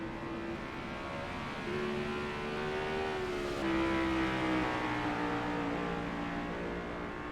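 A race car engine in a racing video game holds a steady, sustained drone with smooth pitch shifts as it revs and changes gear, playing alone at moderate volume throughout.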